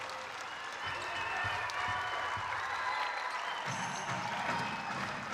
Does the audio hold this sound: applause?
yes